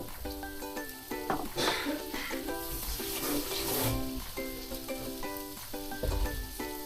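Eggplant stir-frying in a pan sizzles steadily, with occasional louder bursts from stirring, beneath fairly prominent background music.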